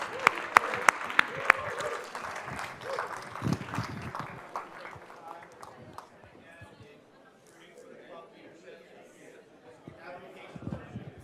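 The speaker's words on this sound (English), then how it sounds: "Let's give him a round of applause real quick." A seated audience at a Fordham investment fireside chat claps, with sharp individual claps early on that thin into scattered clapping, under and between voices talking nearby.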